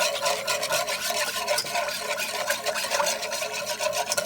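A whisk stirs broth into gravy in a pan, a continuous close scraping and swishing with a steady rhythm and no talk.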